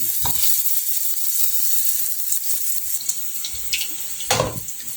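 Mussels with chicken browning in a hot pan for a Filipino ginisang tahong with vegetables, giving a steady close sizzle with scattered crackles and a brief louder burst near the end, with no voices.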